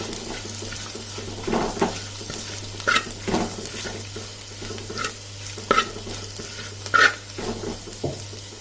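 Ginger, green chili, shallots and garlic fry in a pan for Kerala-style pork fry, a steady sizzle under periodic spatula scrapes and clacks against the pan, close up with no speech.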